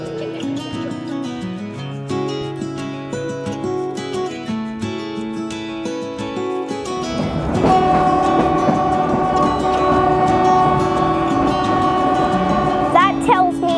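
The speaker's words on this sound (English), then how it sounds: "The Cockle Train, right? Back into Goolwa we go." The Cockle Train, a heritage train heading back into Goolwa, starts with a chiming, melodic run of tones. A louder, broader rumble of the moving train then takes over and holds steady to the end, with a brief high squeal near the finish.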